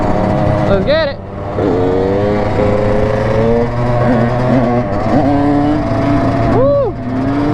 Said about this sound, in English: that two-stroke sound like, I don't know, it sounds like muffled